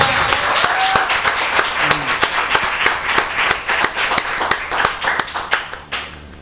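A church congregation claps together in a loud, close rhythmic beat during a sermon by Bishop Nilson Castro, with sharp regular claps over a wash of many hands and no talk.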